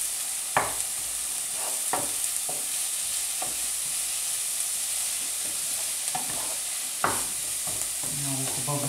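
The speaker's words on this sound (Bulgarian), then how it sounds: "За аромат добавяме нарязаният наситно чесън и разбъркваме." Finely chopped garlic stirred in a hot pan, with a constant bright sizzle of frying and occasional scraping stirs and light clicks of a utensil against the pan.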